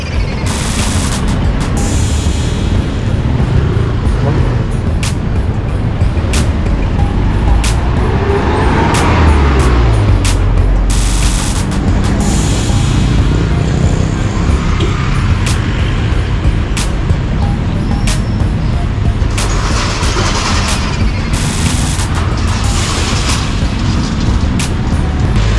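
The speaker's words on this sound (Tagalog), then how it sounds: "Traffic." Steady, loud road traffic around a rider on a surplus motorbike in Valenzuela, with engine rumble, passing vehicles and sharp horn blasts throughout, the bike's rear brake weak.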